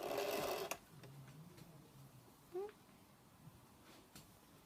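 A sewing machine back stitching a fabric pouch gives one short, loud whirring burst at the start, then stops, leaving a quiet room with a few faint clicks.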